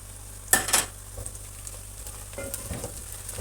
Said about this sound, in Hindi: प्याज को फ्राई करना है, उसका कच्चापन ख़त्म करके